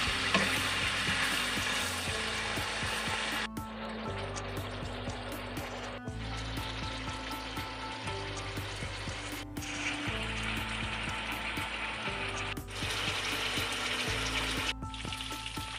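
Pork pieces sizzle and fry in a pan, seasoned with a little salt, with steady loud crackling broken by repeated scraping stirs and occasional clinks of the utensil against the pan, no voices.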